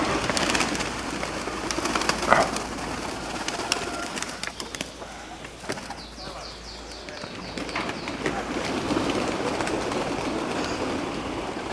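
A large flock of racing pigeons returns to its loft at a pigeon festival in Serres, wings flapping and birds cooing amid outdoor bustle, with people talking nearby throughout.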